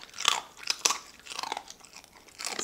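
A pet crunching and chewing a hard treat up close, a quiet run of sharp crunchy bites in uneven bursts with no talking.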